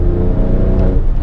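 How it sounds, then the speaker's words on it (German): A 510 hp Alfa Romeo Stelvio Quadrifoglio engine and exhaust accelerate with a loud, close, deep rumbling growl, steady and powerful through a brief burst. "was der Auspuff an Sound generiert"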